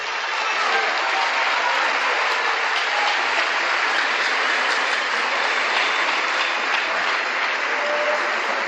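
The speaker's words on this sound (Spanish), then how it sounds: "Un aplauso." A church congregation bursts into sustained applause during a sermon, a dense, loud wash of many hands clapping that carries on evenly without voices.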